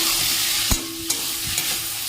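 Potato pieces and green chillies sizzle in hot oil while a spatula scrapes and stirs, with a few distinct knocks against the pan over a steady frying hiss.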